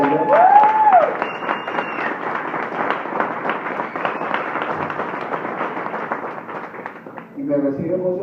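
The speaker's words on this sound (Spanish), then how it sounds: "pido un fuerte aplauso" Enthusiastic applause from an audience at a business gathering honoring a top distributor, steady dense clapping that swells loud at first, mixed with cheering voices and a musical tone, holding for several seconds before dropping off.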